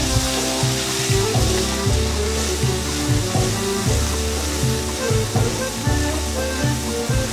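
In a pan, pounded spice paste and garlic sauté for sambal nanas, giving a continuous loud sizzle and frying crackle close up, with faint stirring scrapes throughout.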